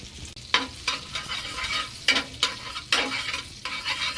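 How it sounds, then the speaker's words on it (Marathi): An egg half-fry cooks in butter in a pan for a sandwich, with repeated sharp spatula scrapes and clinks over a soft sizzle, several strokes spaced through the moment. "हाफ फ्राय बनवून घ्यायची आहे. त्यासाठी थोडं मी बटर टाकतोय"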